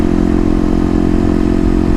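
A Kawasaki KLX250 motorcycle with stage 1 mods accelerates hard, its engine roaring loud and close in a steady, rising drone.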